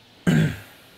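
A single sharp clap followed by a short roomy reverb tail from a Valhalla Room reverb plugin that fades out quickly.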